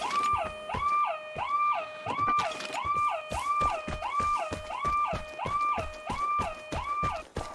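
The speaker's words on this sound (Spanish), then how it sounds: "Sí, me ha sonado la alarma" A base alarm in the video game Vigor wails in a repeating rising electronic tone, roughly ten even cycles, loud and continuous, with clattering noises beneath it.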